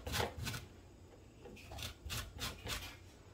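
Orange zest grated for a cinnamon pecan apple fruit salad: several soft rasping strokes in uneven bursts, close and fairly quiet, with no talk.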